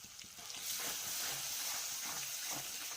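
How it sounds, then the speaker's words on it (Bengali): Water is poured into a pan of spicy chicken curry with masala, setting off a steady, close sizzling hiss that swells after a soft start and keeps going to the end. "ওই জলটা এখন দিয়ে দেবো"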